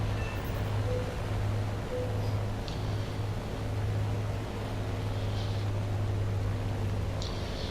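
Bf 109 fighter engine droning steadily in War Thunder after an RPM cut, a low continuous hum with a few faint higher tones, no voices.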